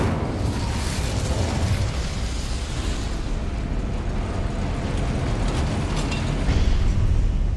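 An Incendio fire spell cast in Hogwarts Legacy, a loud, sustained fiery roar and rumble that holds steady and swells slightly near the end.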